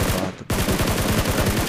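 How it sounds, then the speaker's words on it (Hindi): Shotgun blasts in a mobile shooter game, a loud, close run of rapid booming shots filling the whole moment after a brief gap, with no talk. "ये शॉट गन एक पड़ जाए बस आगे वाला जो एनमीज होता है अपना वो दोस्तों बिल्कुल नोक हो जाता है"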